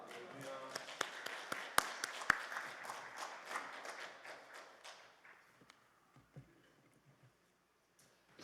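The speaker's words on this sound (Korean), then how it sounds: "오늘 목사님 나오실 때에 할렐루야로 하나님께 영광의 박수 올려드립니다" A church congregation at a prayer retreat applauds in praise of God as a pastor comes forward, a fairly loud wash of clapping with a few sharp claps that thins out and fades to near silence over the final seconds.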